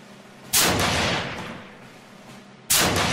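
Two heavy, loud gunshot blasts from weapons in combat each hit with a sharp crack and roll into a long, booming decay, spaced about two seconds apart, with no voices.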